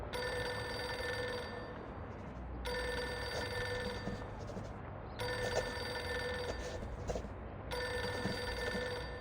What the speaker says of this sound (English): Pick up the phone already!